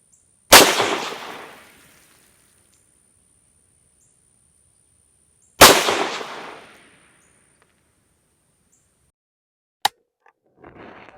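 A Rossi RS22M rifle fitted with a night vision scope fires two sharp, loud shots several seconds apart, each trailing off in a short decay, followed by a brief click and faint rustling.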